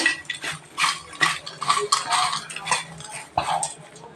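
A spoon stirs chat masala and amchur powder through a puffed rice mixture in a bowl: steady, close scraping and rustling strokes with a few light clinks, no voices.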